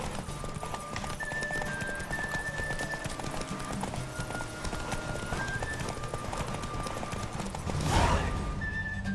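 A horse gallops in The Witcher 3: Wild Hunt, its hooves beating a steady, rhythmic clip-clop at close range against a low ambient game backdrop, with a brief whinny-like burst near the end.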